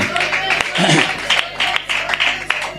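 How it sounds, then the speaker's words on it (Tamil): A church congregation claps their hands in praise, producing a dense, continuous patter of applause. A preacher's amplified voice speaks loudly over the clapping throughout. "மறுபடியும் ஒரு கைத்தட்டி கர்த்தரை சோதரம் பண்றோமே."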